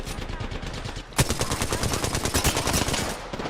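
Rapid automatic gunfire rattles through an Apex Legends match, dense volleys of close shots with a sharp louder crack near the start and no pauses.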